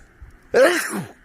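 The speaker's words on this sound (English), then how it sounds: "Just going to sneeze." A single sneeze, close and sudden, with a sharp breathy burst that trails off after about half a second.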